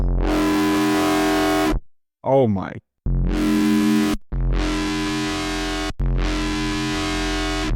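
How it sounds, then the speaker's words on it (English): Loud, heavily distorted bass guitar notes played through a distortion effect pedal ring out in sustained blasts with short gaps, and a voice briefly exclaims in one gap. "Now I've got all the crazy sound, distortion going."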